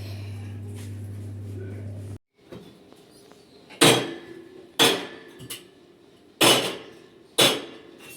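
Kitchen utensils being handled and put away during a kitchen cleaning, heard as four loud, evenly spaced clanks and knocks of metal pots and pans being set down, after a steady hum cuts out.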